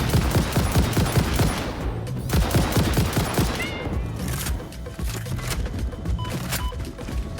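Dense, sustained gunfire in the video game Satisfactory, rapid shots blurring into a continuous loud fusillade with heavy low thumps throughout, no talking.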